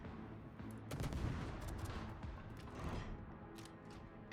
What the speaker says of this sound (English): We're going to shoot that rock.